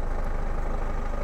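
A Ford Focus engine idles with its air conditioning compressor clutch engaged, giving a steady, even low hum for a moment with no voices.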